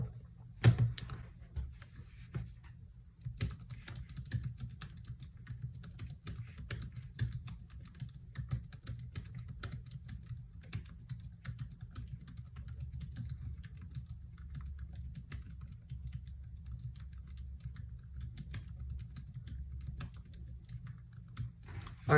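Someone types steadily on the keyboard of a 2020 MacBook Air, making soft, rapid key clicks close by for over twenty seconds with no speech, just a faint low hum underneath.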